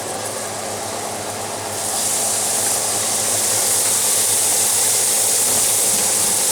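Milk poured into a hot Stargazer cast iron skillet: a soft background rumble suddenly swells into a loud, sustained sizzling hiss that holds steady for several seconds.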